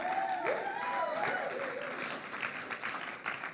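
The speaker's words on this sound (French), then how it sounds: "Est-ce qu'on peut acclamer la grâce de Dieu?" A church congregation applauding, a dense sustained wash of clapping from a crowd with voices and cheers mixed in, fairly loud throughout.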